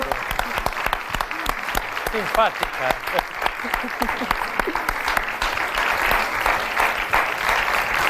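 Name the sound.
studio audience applause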